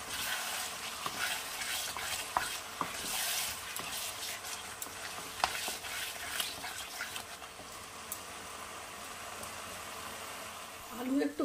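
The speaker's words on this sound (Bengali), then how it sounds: "আলুটা দিয়ে আবার খুব ভালো করে কষিয়ে নেব।" Potatoes sautéed and stirred in a pan for Bengali-style aloo gobi, a steady close sizzle broken by scraping stirs from a spoon, with a few brief knocks and a louder stir at the end.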